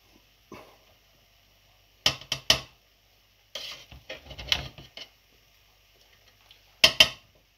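Chicken dum biryani is served from a cooking pot onto a dish. A serving spoon scrapes and clinks against the metal in a few sparse, close clatters, separated by near-silent pauses.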